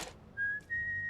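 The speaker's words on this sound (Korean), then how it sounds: "애꾸가 첫 등장할 때 부르는 휘파람" A short whistled tune from the film Tazza: One Eyed Jack, a single clear, sustained whistled note that briefly breaks off and resumes, fairly close, after a brief noise at the start.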